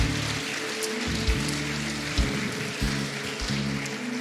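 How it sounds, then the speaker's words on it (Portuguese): A church congregation applauds together in a dense, steady wash of clapping that continues throughout, with music or voices faintly underneath. "Você pode aplaudir o Senhor?"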